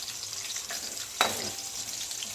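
Potatoes frying in a pot for aloo matar pulao, a soft steady sizzle with one sharp clink of a utensil near the middle.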